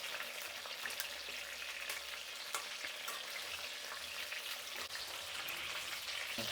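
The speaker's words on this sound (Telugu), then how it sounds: "ఇలా ఒక 5 నిమిషాలు వేయించుకోవాలండి వంకాయలు, అప్పుడే బాగా మగ్గుతుంది." Eggplants frying in a pan while being stirred, a steady close sizzle with scattered crackles and the occasional scrape of stirring, continuous and without talk.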